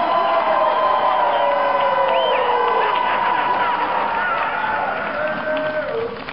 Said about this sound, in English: Round of applause, please, but not too loud